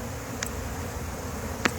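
Honey bees huddled inside a nuc box give a soft, steady hum, with a couple of brief closer buzzes as individual bees pass near.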